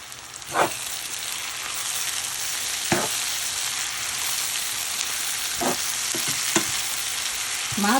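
Onions and spring onion sauté in a pan with a dense, continuous frying hiss, punctuated by a few scraping stirs of a utensil spaced through the sizzle.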